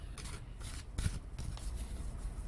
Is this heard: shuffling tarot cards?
yes